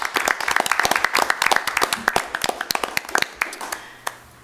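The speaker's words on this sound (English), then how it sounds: "Can we have a round of applause for those people" A small audience at a school district board meeting claps, with distinct individual hand claps in a brisk patter that thins out and fades to a few last claps.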